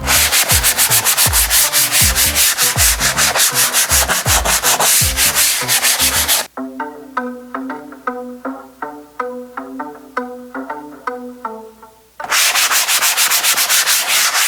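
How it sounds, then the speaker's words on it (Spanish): Rapid rhythmic strokes of sandpaper rub lightly across a wooden kitchen countertop, loud and close, with a tonal musical passage in the middle before the scraping resumes. "vamos a ir lijando de forma casi superficial por toda la encimera"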